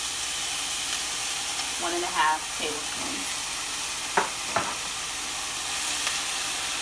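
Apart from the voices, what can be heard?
minced garlic sautéing in a pan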